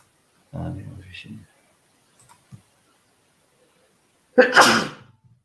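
A person sneezes sharply near the end, after a short stretch of talk and a couple of faint clicks in near silence.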